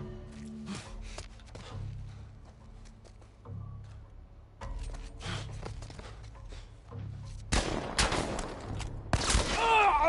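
A video game firefight in The Last of Us Part 1 brings bursts of gunfire, a few sharp shots and then dense volleys that get louder toward the end, mixed with footsteps and scuffling.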